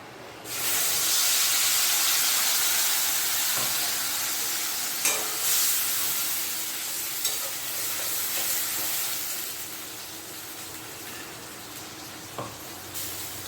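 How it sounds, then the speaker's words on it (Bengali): Ground onion and garlic paste fries in oil for a hilsa fish makhani, producing a steady, loud, close sizzling hiss that holds for many seconds, broken by a few sharp stirring clicks, with no one talking. "পেঁয়াজ রসুনটা একটু ভেজে নিই"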